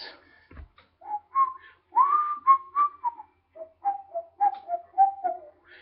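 A tune from The Jungle Book whistled in short, bouncy phrases with brief pauses, clear and close with no voices.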